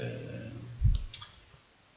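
A computer mouse clicking on a photo folder: a low thump, then a single sharp click, close and quiet after a faint murmur of voice fades out.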